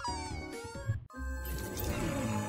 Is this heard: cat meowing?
yes